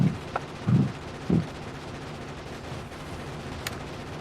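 A few heavy shots in a video game land as low thumping bursts, three spaced impacts in the first second and a half, then a quieter background hum with a faint click near the end.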